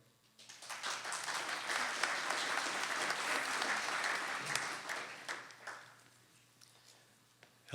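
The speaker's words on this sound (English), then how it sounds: "thank you for the extra applause over here" An audience at a candidates meeting breaks into sustained applause, a dense wash of clapping that holds strong for several seconds and then tapers off, with no talk.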